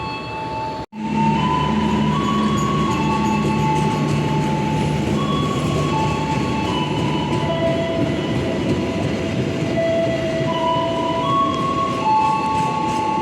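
The Sembrani passenger train runs straight through Cirebon Prujakan station without stopping, a loud continuous roar of wheels and carriages with rail squeal and clatter, close by and with no talk.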